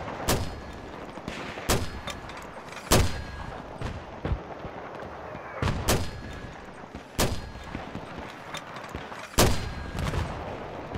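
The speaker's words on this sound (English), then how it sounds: "they're using mortar on you" Booming blasts of mortar fire in Battlefield 3 on the Noshahr Canals map, about eight sharp explosions spaced irregularly over low ambient battle noise.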